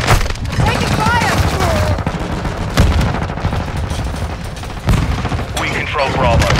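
Heavy gunfire rattles through a Call of Duty Modern Warfare 2 multiplayer match, loud rapid automatic bursts and sharp booms layered over one another, with voices talking in the mix.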